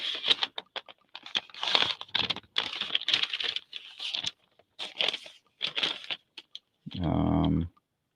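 A large paper bag handled and opened, giving dense crinkling and rustling in bursts that start and stop, close up, followed by a brief louder tearing or scraping sound near the end.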